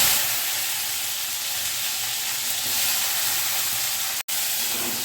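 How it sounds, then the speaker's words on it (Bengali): Potatoes and tomatoes frying with panch phoron in hot oil give a loud, steady broadband sizzle that holds evenly throughout, with a brief sharp click near the end and no voices. "পাঁচফোড়নটা ভাজা হলে এই যে তার মধ্যে এই আলু টমেটো দিয়ে দেব।"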